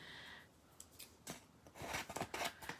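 Scissors snipping through Cricut transfer tape, a few quick crisp cuts and some rubbing rustle, close but fairly quiet, with no talking.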